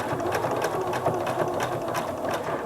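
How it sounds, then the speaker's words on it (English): A sewing machine runs steadily, stitching along the folded edge of a fabric pot holder, with a fast even needle rhythm heard close and continuous with no talking. "Keep stitching along that folded edge"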